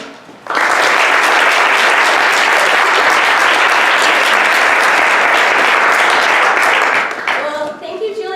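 A seminar audience breaks into sustained, loud applause to welcome the guest speaker, steady clapping filling the room for several seconds before tapering off at the end.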